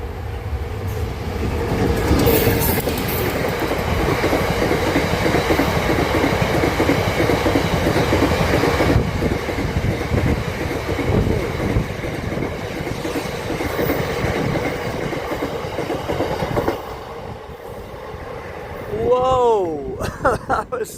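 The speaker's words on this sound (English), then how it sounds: "That freight train, I wasn't expecting that." A freight train rolls past close by, a loud, steady rumble with clickety-clack wheel rhythm lasting about twenty seconds before easing off at the end.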